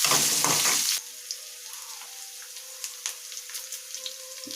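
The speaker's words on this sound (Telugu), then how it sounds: "నెక్స్ట్ కొన్ని ఉల్లిపాయ ముక్కలు వేసుకోండి. బాగా వేయించుకోవాలండి." Onion pieces fry in a pan after a loud burst of hissing that cuts off, leaving a quieter, steady sizzle with scattered crackles and pops close by.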